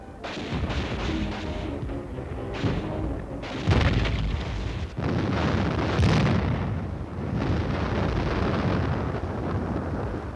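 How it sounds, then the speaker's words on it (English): A simulated artillery barrage booms through a military field exercise in Hawaii, heavy rolling blasts overlapping in a loud continuous roar with short gaps between bursts and no voices. "Under cover of a simulated artillery barrage, supported by tanks, the infantry continues to push ahead."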